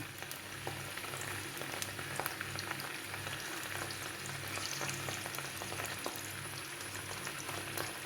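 Dried fish fries in coconut oil with a steady, soft sizzle and crackle that runs evenly throughout, heard alone without talk.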